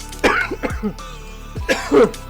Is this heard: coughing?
yes